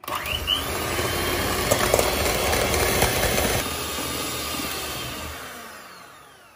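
An electric mixer whisks egg whites with sugar for a strawberry soufflé, giving a loud continuous motor whir that drops in pitch and fades out near the end, with no voices.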